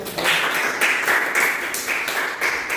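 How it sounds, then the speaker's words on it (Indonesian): A small classroom group during a microteaching lesson claps together, a brisk, moderately loud patter of hands with a few swelling pulses over nearly three seconds. "Kasih tepuk tangan dulu dong."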